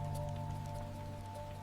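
Steady rain falls in a continuous, even hiss under a low sustained musical drone, with no pauses.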